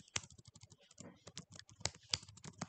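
Typing code on a computer keyboard, a quick, uneven patter of close key clicks with a few sharper taps, steady throughout with no talking.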